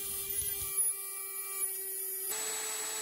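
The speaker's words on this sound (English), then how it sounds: "I used the cutoff wheel of the Dremel mounted in the milling attachment to grind the notches" A Dremel cutoff wheel mounted in a mini lathe's milling attachment grinds notches into a lathe back gear, producing a steady, high-pitched whine with an even hum throughout.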